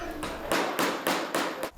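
Hammer blows land in a quick, regular series of five or six sharp, loud strikes at close range, each with a short ringing decay.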